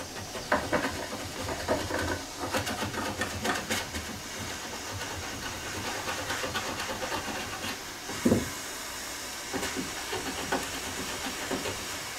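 Water coming to the boil hisses and steams to soften leather on an 1865 Forster & Andrews organ being restored, a faint, steady hiss broken by a few soft clunks and bubbling pops.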